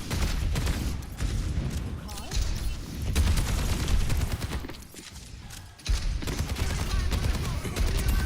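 Gunfire in the video game Overwatch 2 comes as rapid, overlapping bursts of loud, close shots and booms that run nearly continuously, with short breaks in between.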